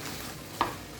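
Courgette and sugar snap peas sizzling in a hot pan during a vegetable stir-fry, a steady close frying hiss with one brief clink, no talk.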